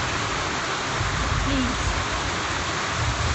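Steady rain falling during a drought, an even hiss with a soft low rumble; a voice speaks briefly partway through.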